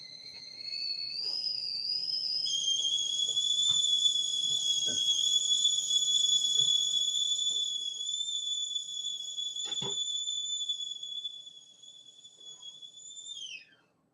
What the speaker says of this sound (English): But there goes my teapot.